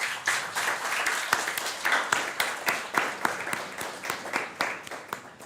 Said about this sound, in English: So please, hand of applause for everybody.